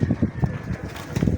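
Young pigeons coo in a short series of soft, low, throaty pulses close by, with faint background noise.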